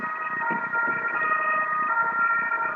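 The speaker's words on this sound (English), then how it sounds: "Oh wait, there's an ambulance." An ambulance siren wails as it passes, a loud, steady, tonal wail that holds throughout the clip with no talking.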